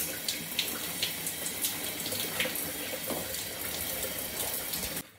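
Water running steadily from a tap while shampoo is rinsed out of microlocs, a continuous splashing hiss with small irregular splatters, cutting off at the end.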